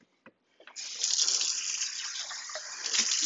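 Tap water runs steadily into a container to thin buffalo wing sauce, a continuous close pour lasting about two and a half seconds after a few brief clicks.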